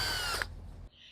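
A power drill drives a screw into a pipe clamp on a hydroponic strawberry high tunnel, whirring loudly for under half a second before winding down and cutting off abruptly.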